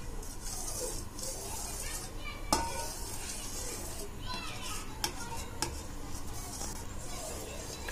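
A soft, steady bubbling sizzle of milk boiling down in a pan for palkova, with a few sharp clinks of a utensil against metal.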